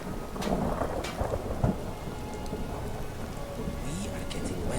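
Steady rainfall with rolling thunder rumbling through a stormy city in Skyrim, a dense wash of rain with low booming peaks, a faint voice briefly heard beneath.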